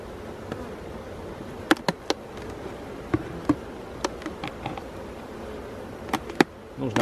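Honeybees swarm around an apiary hive with a continuous low buzz, broken by scattered sharp taps and clicks from handling the hive.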